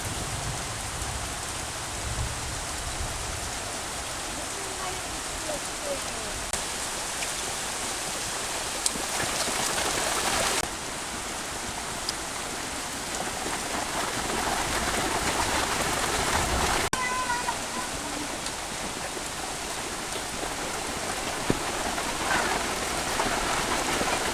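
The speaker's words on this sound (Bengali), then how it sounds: "অজরে বৃষ্টি হচ্ছে দেখেন একদম পুরো কড়া বৃষ্টি" Heavy rain pouring down in a rural village, a dense, steady hiss of drops on surfaces that stays loud and unbroken throughout, with a few faint background sounds.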